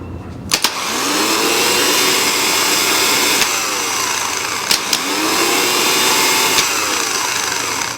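A 1993 Dodge Ram Cummins engine spins on its starter through a jumped solenoid, giving a loud continuous grinding whir close by for about eight seconds, with a few sharp clicks near the start and middle.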